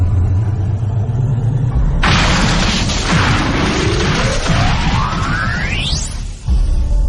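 A saucer bomb sound effect hits as a sudden loud roar with deep rumble. A whine rises steadily in pitch through it for about four seconds, then cuts off abruptly, leaving a low rumble.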